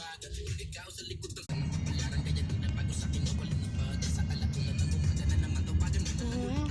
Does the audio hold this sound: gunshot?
no